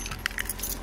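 Keys jangling, a brief close metallic rattle of a few quick clinks lasting under a second.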